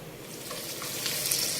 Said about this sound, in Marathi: हळूहळू तेल तापलेलं आहे, त्यामध्ये वडे घालायचे आहेत